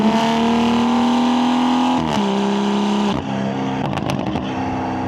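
A Stage 3 tuned rear-wheel-drive BMW M140i F20 with a B58 engine at about 600 hp pulls hard, its loud rising engine note dropping sharply at two quick upshifts before climbing again.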